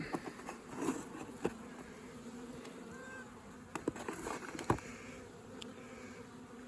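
Honey bees from a strong hive hum in a steady, soft, close buzz, with scattered individual bees flying past and faint light tapping sounds.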